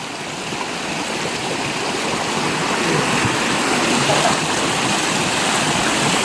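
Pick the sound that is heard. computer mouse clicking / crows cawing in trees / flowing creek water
flowing creek water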